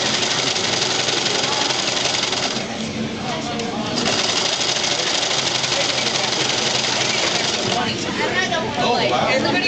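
Sewing machine stitching fabric, a steady close mechanical whir with a fast chattering beat running the whole time, easing briefly partway through, while a voice talks over it.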